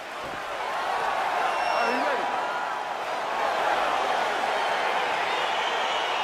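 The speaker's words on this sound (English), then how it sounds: "crowd getting excited as this fight gets underway" An EA Sports UFC 4 arena crowd roars in a dense, continuous wash of cheering and whoops as a fight begins, loud and unbroken throughout.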